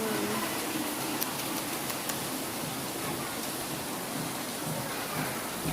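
Heavy rain pours down steadily in a dense, unbroken roar that stays loud and close throughout, with no voices.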